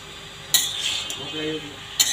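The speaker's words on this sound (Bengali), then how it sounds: "ভালো করে নেড়ে চেড়ে কষিয়ে নিচ্ছি" Raw jackfruit is stirred and sautéed in a wok with a utensil, giving two sharp metallic scrapes and clinks over a faint sizzle, close by and brief.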